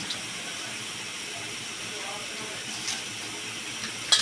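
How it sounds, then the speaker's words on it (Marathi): Washed Wada Kolam rice going into a pot of boiling water, a low continuous hiss and bubbling with a couple of small splashes near the end, faint and close, no voices. "त्यात आपण हे तांदूळ धुवून घेतलेले ते टाकत आहोत"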